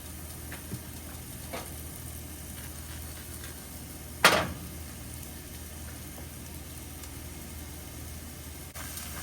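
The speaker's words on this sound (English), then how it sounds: "we're just going to brown up this sausage" Sausage browning in a pan gives off a steady, soft sizzling hiss throughout, with one sharp clatter about midway.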